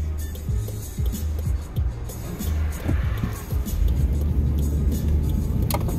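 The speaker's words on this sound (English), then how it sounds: "Got a bunch of cars coming." Several cars pass by on a road, their engines and tires rising into a steady, loud rushing drone close to the listener, with no talk.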